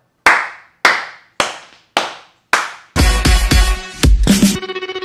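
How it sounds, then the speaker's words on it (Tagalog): Five sharp, separate hand claps ring out loud and close, evenly spaced, followed by a dense burst of audience clapping mixed with a bright, tonal musical sting at a YouTuber original-song countdown. "Tapos pumalakpak tayo."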